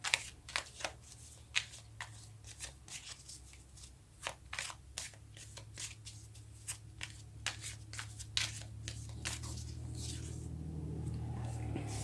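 Tarot cards being shuffled by hand in a repeated riffling, flicking rhythm of crisp bursts, close and moderately quiet, over a low steady hum.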